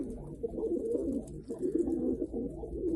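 Tumbler pigeons, a blue male among them, coo in a low steady murmur, overlapping calls continuing throughout without pause.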